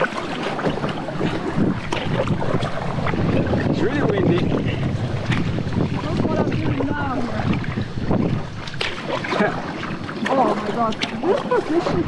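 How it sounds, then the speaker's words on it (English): Strong wind buffets the microphone while kayaking at sea off Koh Kood, Thailand, gusting loudly and continuously with water splashing, and people talking under it. "it's windy today"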